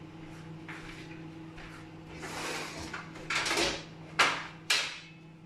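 A kitchen oven door is opened, producing several close knocks and clunks of the door and latch that build in loudness and end with two sharp bangs, with no voices.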